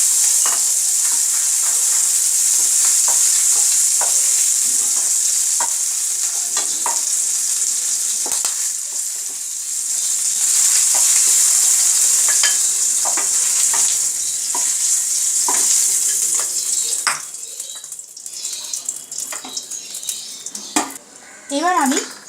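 Fish pieces frying in oil in a pan, a loud continuous sizzle broken by repeated scrapes and clinks of a utensil stirring, with the hiss dropping away near the end.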